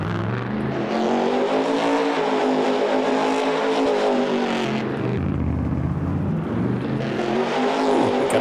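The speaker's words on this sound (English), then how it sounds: "ever wondered what a monster truck sounds like?" A monster truck engine in Farming Simulator 22 revs steadily and loudly throughout, its pitch rising and dipping with the throttle, with no talking over it.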